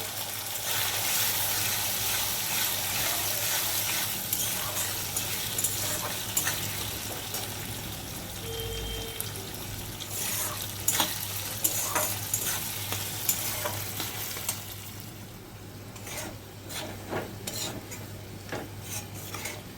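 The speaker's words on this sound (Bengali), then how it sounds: "চালটাকে আমি ভালো করে তেলের মধ্যে নেড়ে নিচ্ছি।" Steady sizzling of Gobindobhog rice frying in hot oil, with a spatula scraping and stirring through the pan in irregular strokes, close and fairly loud, no talking.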